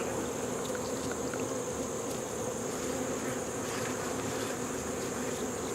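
Bees fly around a beekeeper's head while queens are being worked, a steady close buzzing drone that stays loud and unbroken throughout, with no talking.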